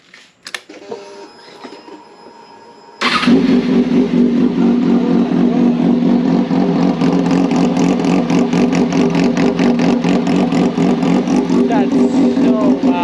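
A Kawasaki Ninja ZX6R with a custom exhaust fires up after brief faint handling noises, then settles into a loud, steady, close idle that drones on without a break.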